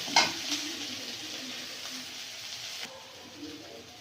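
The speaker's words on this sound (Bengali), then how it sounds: "পেঁয়াজটা ভাজা ভাজা হয়ে গেছে" Chopped onions sizzle quietly in hot oil with garlic and black cumin, with a spoon scraping and stirring the pan; a brief metallic clink comes at the start, and the frying hiss is soft and continuous.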